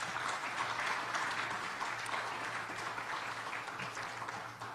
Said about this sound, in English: Maybe we can thank Professor Weiss with a round of applause.